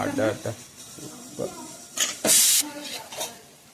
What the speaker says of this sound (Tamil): அடுத்து இது போட்டு கிண்ட வேண்டியதுதான்.